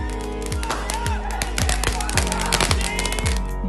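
Firecrackers burst at a political victory celebration by supporters in Virginia, with rapid sharp cracks in uneven bursts, some close and loud, mixed with crowd noise and voices.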